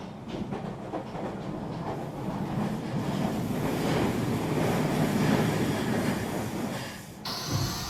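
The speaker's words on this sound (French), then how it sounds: "Nous avons ensuite le lendemain fait un tour dans le train d'Ardèche." The Ardèche tourist train running along its rails, a steady rumbling roll with faint rhythmic clatter that swells and then drops off near the end.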